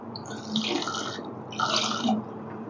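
Water is poured into a pan of crab curry in two distinct splashing gushes, close and clear, with a brief pause between them and no talking.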